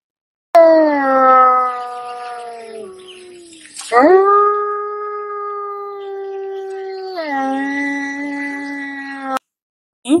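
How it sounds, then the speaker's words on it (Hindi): A jackal's long, wavering howl sounds as a story sound effect, loud and near, rising and sliding through several sustained tones over about ten seconds with no talking. "गीदड़ का पेट चूंकि छोटा था जल्दी भर गया इसने खेत के किनारे बैठकर चीखना शुरू कर दिया"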